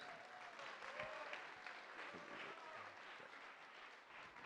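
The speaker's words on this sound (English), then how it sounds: "Give him a round of applause." Steady applause from a conference keynote audience as someone is called up on stage fills the whole stretch, a dense wash of clapping at fairly even loudness with no talk over it.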